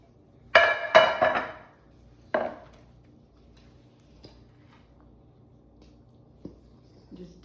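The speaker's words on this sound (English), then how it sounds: "So I'm going to spray this." Cooking spray hisses into a baking dish for a vegetable gratin in two quick close bursts, then a third shorter one, followed by faint clinks in a quiet kitchen.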